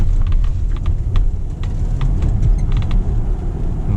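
Inside a Tesla Model X taken hard around a corner, a constant loud low rumble of road noise fills the cabin, with faint light clicks and no talking.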